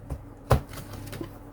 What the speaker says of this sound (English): 2 more times I'll shuffle.